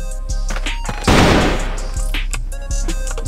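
Gunfire in a first-person shooter video game, a dense burst of shots erupting loudly about a second in over game sounds and lasting roughly a second, followed by lingering noise and scattered sharp sounds.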